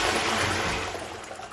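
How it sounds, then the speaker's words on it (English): A household toilet flushes nearby, a loud rushing gush of water that gradually eases and thins toward the end, with no talking. "I'm gonna go ahead and flush the toilet"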